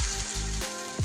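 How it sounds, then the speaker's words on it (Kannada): Soya tikkis frying in oil in a pan, a steady close hiss and crackle of sizzling throughout, with a few soft low thumps as patties are placed down. "ಈಗ ಒಂದು ಪ್ಯಾನ್ಗೆ ಈ ಥರ ಆಯಿಲ್ ಹಾಕ್ಕೊಂಡು ಈ ಟಿಕ್ಕೀಸ್ನೆಲ್ಲ ಈ ಥರ ಪ್ಲೇಸ್ ಮಾಡ್ಕೊತಾ ಇದ್ದೀನಿ."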